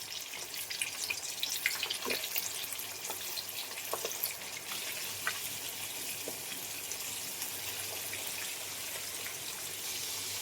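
Prawns sizzle in hot oil over a lowered flame, giving a steady, close crackling hiss with scattered pops and spatters that runs the whole time without a break.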